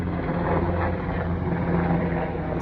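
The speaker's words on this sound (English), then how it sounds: "See the Blackhawks, black helicopters flying over my house." Black Hawk helicopters flying over a house, heard as a loud, continuous engine-and-rotor drone that holds steady and unbroken overhead throughout.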